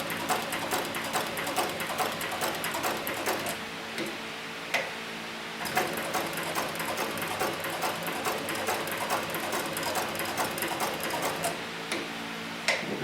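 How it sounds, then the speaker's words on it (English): Extra heavy duty leather sewing machine stitching steadily, a fast regular ticking clatter of the needle running continuously at moderate volume with no talk. "I'm going to just go ahead and increase my stitch length a little bit because I can see it was putting down a little bit of a small stitch"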